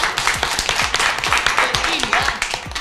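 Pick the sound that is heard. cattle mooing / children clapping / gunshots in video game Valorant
children clapping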